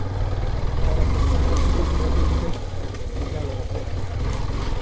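A Yamaha FZ motorcycle's engine runs with a loud, steady low rumble close by, easing slightly partway through, with a voice talking over it.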